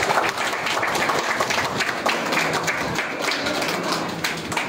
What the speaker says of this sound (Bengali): প্রত্যেকে একবার জোর করে হাততালি হবে।